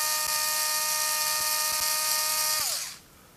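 Hoto Li-ion electric screwdriver Lite running on its own: a steady, thin, high-pitched motor whine for about three seconds that winds down as the motor stops.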